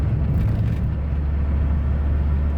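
A campervan driving on a road, heard from inside as a loud steady low engine and road rumble without a distinct braking sound.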